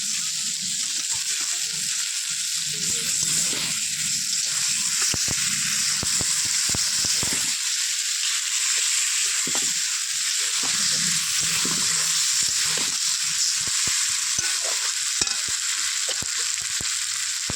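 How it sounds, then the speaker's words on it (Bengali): Potatoes frying in hot oil with a little water for a Bengali soybean and potato vegetable curry, a loud continuous hiss with bursts of spattering and stirring, no talk. "আলুগুলো ঢেলে দিলাম।"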